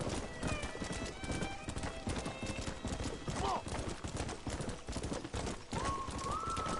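Horse hooves clip-clopping in a steady galloping rhythm in Red Dead Redemption on PS5, with a short whinny partway through, over game music and a speaking voice.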